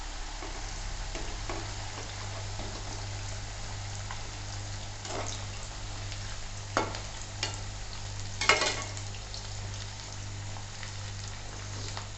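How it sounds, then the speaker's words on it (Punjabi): Dried elephant foot yam pieces fry in hot oil with a constant close sizzle, broken by a few sharper crackles and stirring clatters near the end, and nobody talks. "ਆਪਾਂ ਇਹਨਾਂ ਨੂੰ ਫਰਾਈ ਕਰਦੇ ਹਾਂ ਜੀ ਤੇਲ ਆਪਣਾ ਗਰਮ ਹੈ"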